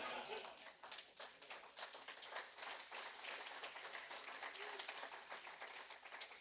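Tepid, thin clapping from a live panel audience at DragonCon, scattered and quiet throughout.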